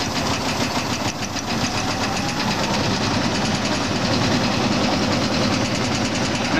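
An Oliver 80 gravity table seed separator running at around 401 RPM, a loud, steady mechanical drone with a fast rhythmic rattle and shake that holds evenly throughout, no pauses.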